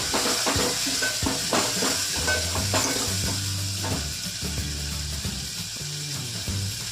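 Onion curry with spices, buttermilk and water being stirred in a pan: steady soft sizzle with a spoon scraping and clinking against the metal in an uneven rhythm, close and moderately loud, no talking.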